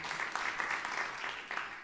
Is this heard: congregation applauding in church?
yes